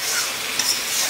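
Chicken kosha, made with desi chicken, sizzles steadily in a pan while being stirred, with a dense hiss throughout and a couple of brief scraping knocks near the middle. No voices.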